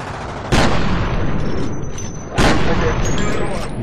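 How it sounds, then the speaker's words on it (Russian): Two heavy shotgun blasts in the game F.E.A.R., loud and close, each a sharp boom with a long ringing tail, spaced about two seconds apart over constant game noise. "Блин, дробовик просто атомный"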